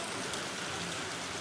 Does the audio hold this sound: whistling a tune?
no